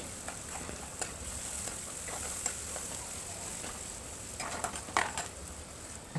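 Onions, green chillies and ginger-garlic paste are stirred in a pan, with light clicks and taps of the spoon against metal over a faint, steady background sizzle, quiet and close.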